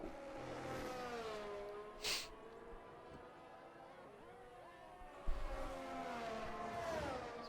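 Racing-game car on a hot lap through the downhill section of the Bahrain circuit, its engine note rising and falling through gear changes, with braking and a quieter stretch before it revs hard again, all at a faint level.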